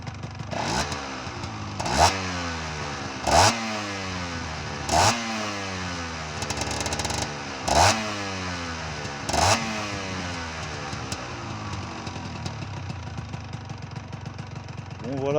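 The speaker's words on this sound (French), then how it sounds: "je vais pas la faire tourner au ralenti longtemps comme ça" Cagiva Raptor 125 motorcycle engine idling nearby, a steady low running note with a few sharp blips of revving at regular intervals through the clip.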